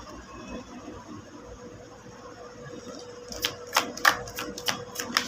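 Tarot cards being shuffled, a few seconds of quiet rustle followed by a run of sharp, close riffling snaps in quick succession, with no talking.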